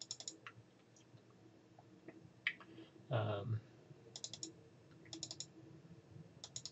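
Sparse, faint computer mouse clicks and light keyboard taps at a desk, scattered in small clusters over a quiet background, with a short muffled voice sound in the middle.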